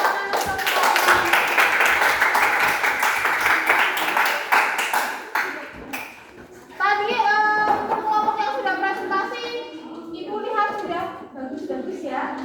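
Classroom applause from students, a burst of rapid clapping for about six seconds that gives way to children's voices chattering and speaking.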